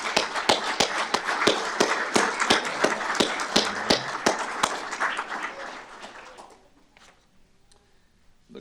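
Audience at a fire and rescue awards ceremony applauding honored firefighters and a captain, a lively round of clapping with sharp individual claps standing out, fading to quiet after about six seconds.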